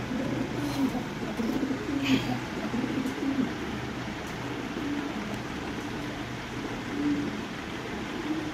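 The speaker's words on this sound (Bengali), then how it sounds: "জাম্বো সাইজের কবুতর।" Jumbo-sized Lahori pigeons coo softly and steadily in a collection loft, low repeated calls over a constant background hiss, with a few faint higher clicks.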